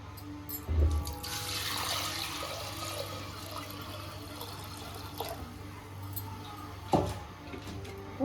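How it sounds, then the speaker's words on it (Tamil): Water is poured into a clay pot for pearl millet porridge, a soft trickling and splashing stream with a few clunks of the vessel, fairly faint and close, no voices. "மண் சட்டி வச்சுருக்கிற தண்ணி ஊற்றிக்கலாங்க"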